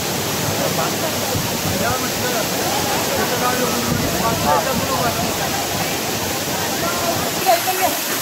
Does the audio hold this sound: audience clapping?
no